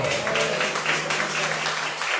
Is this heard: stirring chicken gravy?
no